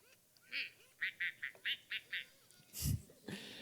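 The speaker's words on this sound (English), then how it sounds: "So if you've ever wondered what a mad duck sounds like." An interactive toy duck gives an angry burst of about seven short, clipped quacks in a quick string, close and fairly loud, followed by a soft thump and rustle.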